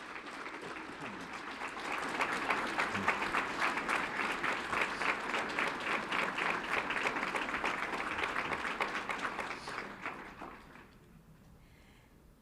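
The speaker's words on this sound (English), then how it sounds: "Let's give them a round of applause to the 2023 UIL Spirit State Champions from Pasco High School." A school board meeting audience applauds the 2023 UIL Spirit State Champions from Pasco High School, dense steady clapping that holds for about ten seconds, then fades into quiet room tone.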